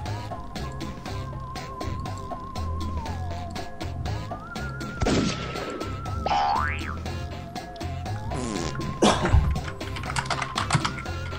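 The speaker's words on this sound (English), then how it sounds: "I hear typing" Clicky keyboard typing taps away at an irregular pace, mixed under bouncy party-game music with loud boing effects.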